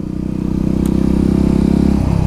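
A 2009 Yamaha WR250X motorcycle idling nearby, a steady low, even engine putter with a slight dip in pitch near the end, no talk over it.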